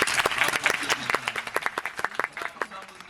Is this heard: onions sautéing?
no